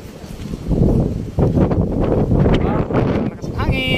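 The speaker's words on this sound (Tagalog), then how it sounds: "Lakas ng hangin." Strong wind roars and buffets the microphone in gusts on a hilltop, a rough rumbling rush with faint talk near the end.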